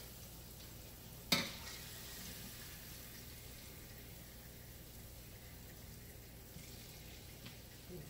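Battered chicken pieces for General Tso chicken fry in a pan with a faint, steady sizzle, broken once early by a sharp clack of a utensil and a few light knocks near the end.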